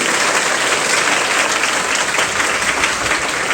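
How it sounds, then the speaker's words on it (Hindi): A school audience applauding for their parents during a motivational lecture, a loud, dense, continuous roar of many hands clapping at once, filling the whole span with no talk over it. "एक बार अपने मम्मी पापा के लिए जोरदार ताली बजा दीजिए"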